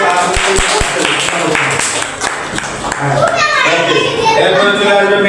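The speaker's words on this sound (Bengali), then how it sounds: "সবাই তাহসিনের জন্য একটা হাততালি" A group of children in a classroom clap for a child named Tahsin, a burst of sharp, uneven applause that fades as a voice begins talking over the room.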